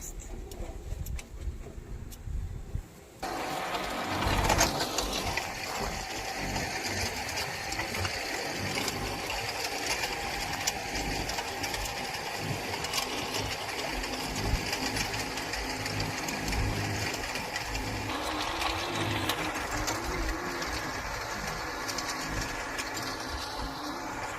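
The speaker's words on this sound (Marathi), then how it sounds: "तिकडनं ट्रॅक्टर येत आहेत वाफे पाडण्यासाठी" A tractor working a farm field, cutting furrows and planting beds, with a steady engine drone running continuously and fairly close throughout. No one speaks.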